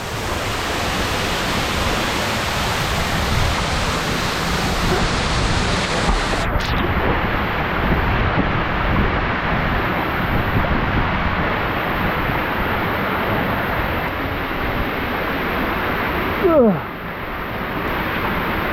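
Waterfall crashing steadily as a dense, unbroken roar of falling water, loud and close throughout, with a brief sharper splash or bump near the end.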